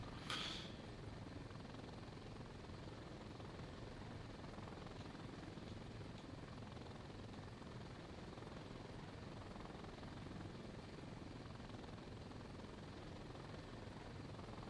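A helicopter in the video game Thunder Helix drones steadily with a constant rotor and engine hum, even and moderately faint throughout, after a brief sharp sound at the start.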